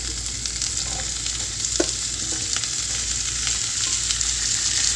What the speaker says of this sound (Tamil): இந்த பாகற்காய் நல்லா வதங்கணும்